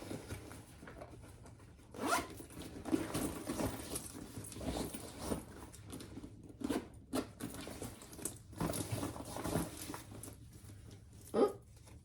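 A zipper on a thin-fabric crossbody bag is handled while a zipper pull is attached, giving short scratchy zips and rustling bursts with quiet pauses in between, close and moderately loud with no talk.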